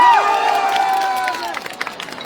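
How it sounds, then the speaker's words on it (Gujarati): A crowd of farmers at a protest gathering in Botad, Gujarat, cheers and claps for Rajubhai Karpada, a broad roar of voices with some clapping that fades over a couple of seconds, with whistles or shouts threading through. "રાજુભાઈ કરપડા માટે તાળીઓ લાગણી આપું."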